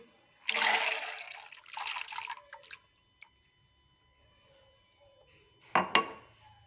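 White beans (lobia) poured into a steel pot holding about three glasses of water, a splashing, rattling tumble followed by a pause, a small clink, then a second brief splash, close and clear.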